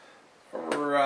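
Beer poured from a can into a glass, a short fizzing, gurgling pour that starts abruptly and rises in volume close to the microphone.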